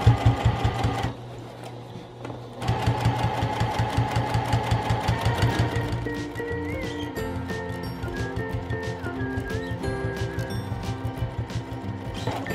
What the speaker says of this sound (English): needle down, pull up your presser foot, turn your project, straighten out your binding